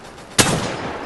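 A single sharp gunshot rings out in the video game Rebels Clash, a sudden loud crack that leaves a short, rumbling tail. There is no talking around it.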